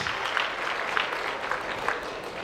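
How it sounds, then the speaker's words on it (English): A conference audience claps steadily, a dense even patter of applause that holds throughout without a break. "A round of applause for both of them."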